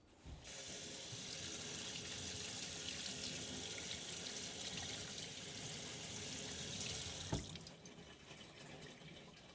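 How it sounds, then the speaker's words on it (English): A kitchen sink tap runs steadily as a cured pork jowl is rinsed beneath it, a continuous close hiss of falling water that briefly splashes before stopping near the end. "I'm just going to take it over to the sink and rinse it off with some water."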